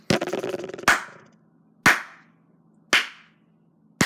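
Four separate hand claps in an untreated room, each followed by a short ringing reverberant tail; a soft rustling sound is heard before the first clap.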